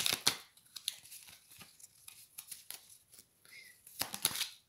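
Tarot cards being shuffled and drawn during a reading: a papery flurry of riffling and sliding cards, close and fairly quiet, swelling again in a brisk burst at the end.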